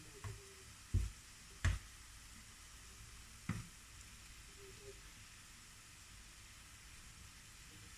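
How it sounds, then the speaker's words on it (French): Croquette dough frying in hot oil, a quiet continuous sizzle with three sharp clacks of utensils early on, no talking. "la quantité de croquettes, de pâte à croquettes que vous mettez dans l'huile pour la friture"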